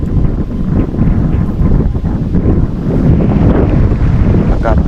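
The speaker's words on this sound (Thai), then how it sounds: "ลมก็แห้งๆเป็นหน่อยพัดเนี่ยอากาศเย็น" Dry, cold wind blowing steadily outdoors, a loud continuous rush buffeting the microphone with no break for the whole stretch.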